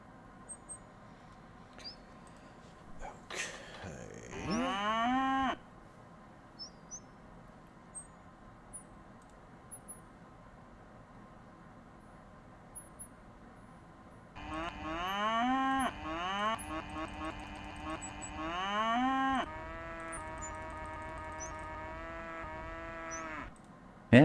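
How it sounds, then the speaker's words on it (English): Cows mooing in the DOS adventure game Downunder Dan, several drawn-out synthesized moos in overlapping bursts over a quiet background with faint chirpy game effects. "It's just a herd of cows grazing."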